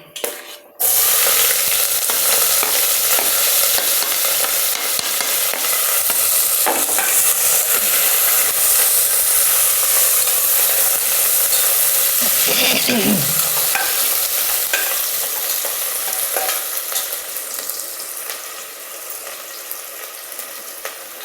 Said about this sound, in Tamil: எண்ணெயில் வெங்காயம் போடும் பொழுது அப்படியே மேலே தெரிக்கும்